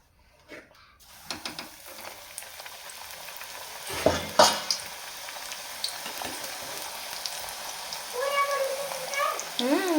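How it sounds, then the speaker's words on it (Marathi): Methi puri frying in hot oil, a soft bubbling sizzle that builds steadily through the clip, with a few close kitchen clatters and brief stirring sounds over it. "तेल छान गरम झाले तर तळून घेऊया"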